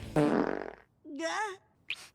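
A loud, close fart rips out for about half a second with a buzzing flutter, followed by brief voices speaking and a short vocal exclamation.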